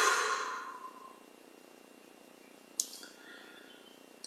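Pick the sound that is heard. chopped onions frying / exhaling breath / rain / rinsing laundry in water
exhaling breath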